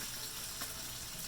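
Bacon sizzling in a hot pan, a steady close hiss of frying fat with faint crackles throughout, no voices over it.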